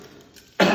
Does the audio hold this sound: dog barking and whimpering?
no